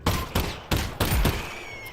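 Gunfire in the video game Half-Life: Alyx: four sharp, loud shots spaced roughly evenly over two seconds, each with a short ringing tail.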